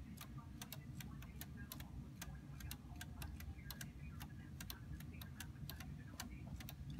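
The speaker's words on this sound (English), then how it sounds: "Here's the Rokor pendulum clock. It doesn't have a crystal movement, it's all gear spring movement wound up." Rokor wooden DIY pendulum clock with a spring-wound gear movement ticking in an even, steady rhythm, faint and close, over a low background rumble with no talk.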